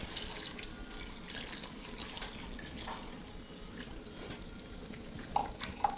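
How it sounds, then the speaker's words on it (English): Water is poured steadily into a chickpea stew while it is being mixed, a continuous close trickle and splash with faint drips throughout. "we're going to slowly add in our water as we mix it"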